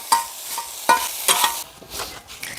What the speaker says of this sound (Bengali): চিকেন কিমাটাকে ভালো করে ভাজা ভাজা করে নেব